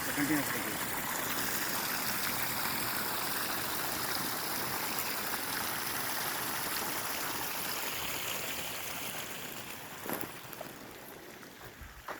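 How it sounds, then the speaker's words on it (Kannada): Water flowing continuously on a farm with summer groundwater recharge, a steady broadband rushing stream that fades slightly toward the end, with faint voices in the background. "ಇಷ್ಟು ನೀರು ಬರ್ತಾ ಇದೆ ಒಟ್ಟು ಕಂಟಿನ್ಯೂ"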